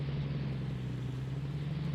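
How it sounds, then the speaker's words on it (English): A farm vehicle's engine in Farming Simulator 19 runs at a steady, even idle, giving a continuous low hum with no revving and no speech. "Nice engine sound."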